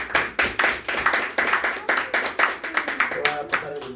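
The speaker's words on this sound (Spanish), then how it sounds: "Y vamos a darle un aplauso a Jesús" A church congregation claps together, a dense run of overlapping handclaps rising and falling in bursts over four seconds, fairly close and lively, with faint voices underneath.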